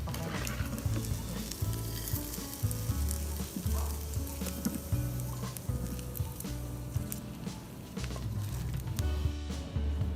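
Chinese sausage frying in water in a pan makes a dense, continuous bubbling sizzle with occasional stirring scrapes, close and steady throughout, with no voices.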